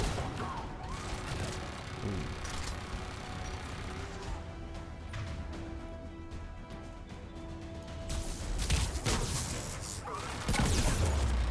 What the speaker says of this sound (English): It didn't take a lot for the turret to actually almost kill me.